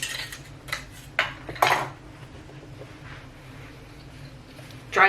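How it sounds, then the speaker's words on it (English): Metal canning jar lids for home-canned homegrown tomatoes clink and clatter against each other in a few bright, separate bursts, close by, over a faint background hum. "the next step is to grab these lids"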